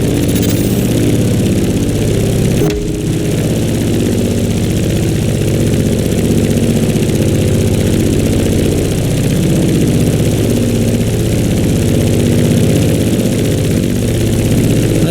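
Propeller plane engines in The Crew Motorfest drone loud and steady, a close, sustained low rumble flying through turbulent skies, with one brief whoosh early on and no talk.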